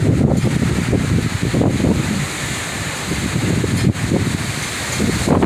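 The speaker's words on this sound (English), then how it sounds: "This wind woke me up out of my sleep." A strong wind storm roars through the middle of the night in Spring, Texas, a steady loud rushing blast with gusts rising and falling and no voices.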